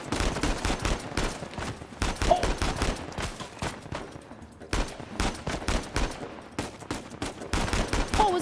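Rapid bursts of gunfire from the video game Uncharted 4: A Thief's End, with dense overlapping shots and brief lulls, loud and continuous throughout.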